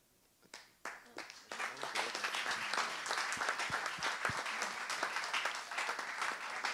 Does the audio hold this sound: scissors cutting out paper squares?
no